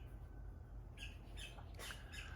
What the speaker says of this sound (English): I asked for the birds to come here to make noise